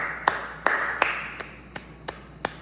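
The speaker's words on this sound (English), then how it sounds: "You can make a combination of me just clapping." Seven distinct hand claps, close and loud, spaced roughly evenly at a slow steady pace over a quiet background.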